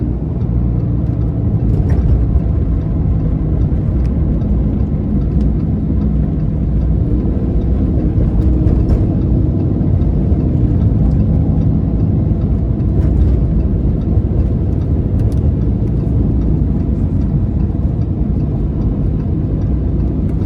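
A 2015 Lamborghini Huracan LP610-4 pulls hard up an interstate on-ramp, its engine droning loudly and steadily from inside the cabin, mixed with road and wind roar throughout.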